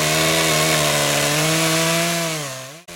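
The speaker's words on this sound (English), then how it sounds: "A chainsaw, its blade still crusted with old blood." A chainsaw with a blood-crusted blade drones loudly at steady pitch, then sags and cuts out abruptly near the end.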